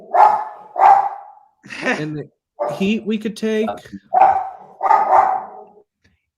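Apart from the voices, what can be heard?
dog barking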